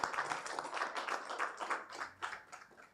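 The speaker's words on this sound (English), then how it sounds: "A round of applause for Sofu JB" Audience applause at an art symposium session in Ghana, a steady wash of many hands clapping at moderate volume that rises and falls slightly throughout, with no voices over it.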